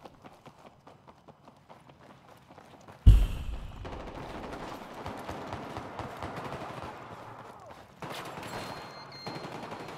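Battlefield 4 RPK machine gun fire on the Operation Locker map: a long, dense burst of automatic shots starting abruptly after a quieter stretch of rapid footsteps, loud and close, continuing unbroken for several seconds with a brief second surge near the end.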